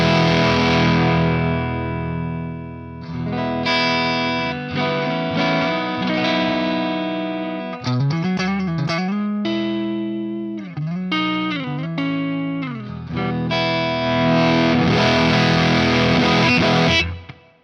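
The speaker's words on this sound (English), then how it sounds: "I've got the plexi pegged right now, and if I, you can hear it full on." PRS S2 Standard 22 electric guitar through a cranked, distorted plexi amp, loud, crunchy chords and fast single-note runs with bright, sustained overdrive, played alone and closing on a ringing chord.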